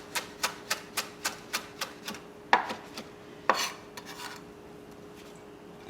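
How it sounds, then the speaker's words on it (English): Knife rough-chopping cilantro on a cutting board for pico de gallo: a steady run of about eight crisp, evenly spaced chops up close, then a few heavier, louder strikes and quieter scraping. "but just give them a rough chop."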